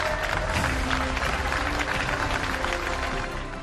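Applause marking Rishi Sunak becoming British prime minister: a steady wash of clapping from a crowd that stays dense and even throughout, trailing off slightly at the end, with no voices standing out.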